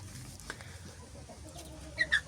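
Small chicks and ducklings peep and cluck softly amid a low background rumble, with a couple of brighter chirps near the end, fairly faint.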